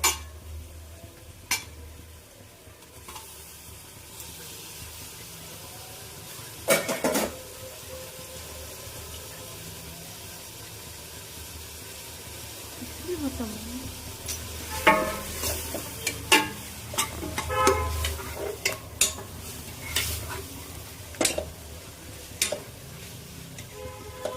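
Half a kilo of cleaned mutton goes into a hot pan for a Salem-style mutton curry, sizzling steadily with sharp spoon-on-pan scrapes and clatters of stirring that grow busier and louder toward the end.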